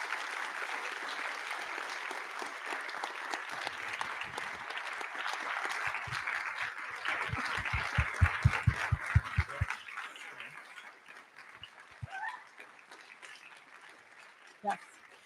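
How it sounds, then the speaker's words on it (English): Audience applause at a high school instrumental and choral spring concert, steady clapping filling the hall and slowly fading, with a few louder claps near the end and some voices under it. "I would keep the applause going if we could"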